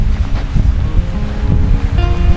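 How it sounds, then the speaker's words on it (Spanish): A hidden waterfall on the trail toward Fitz Roy near El Chaltén, Argentina, gives a loud, steady roar of rushing water, with wind buffeting the microphone. "Está la cascada escondida."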